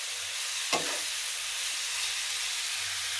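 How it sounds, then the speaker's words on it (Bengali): Potatoes frying in oil for aloo bhaji, a constant even hiss of frying heard alone, with one brief scrape or clink near the start. "আলু ভাজি রান্না করা হচ্ছে।"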